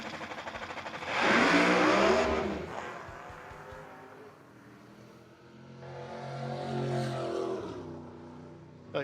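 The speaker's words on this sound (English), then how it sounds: "That thing sounds incredible when it gets up in those upper RPMs" A No-Box 660 drag race car engine revs hard to high RPM, surges loudly, dips, then climbs again in a second rising wail, heard alone without speech.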